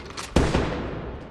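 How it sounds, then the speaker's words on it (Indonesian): A single gunshot from a living room in a horror film, a sudden sharp crack that decays into a rumbling echo over a low background, with no voices. "Tiba-tiba saja Josh mendengar suara tembakan dari ruang tamu."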